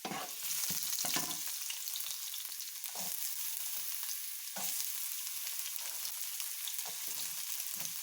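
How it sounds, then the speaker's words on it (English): Garlic and onions frying in a pan for a pasta sauce make a continuous soft sizzle, with a few clicks and scrapes of stirring near the start and no voices. "I am going to put now the garlic"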